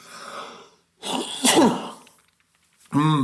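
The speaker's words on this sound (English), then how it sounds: "I'm going to sneeze" A single sneeze bursts out after a short pause, loud and close, followed by a brief voiced sound as the speaker recovers.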